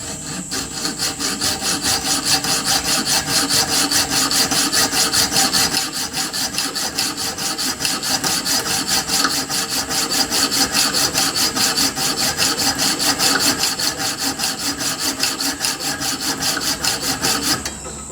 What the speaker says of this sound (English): Just using one of these fine-tooth junior hacksaws to do this.